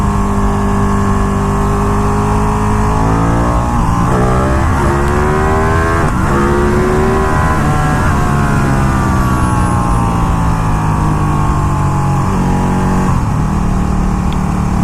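A 200hp superbike engine accelerates hard, a loud continuous roar whose pitch climbs and drops through several gear changes, close and unbroken, with no talking.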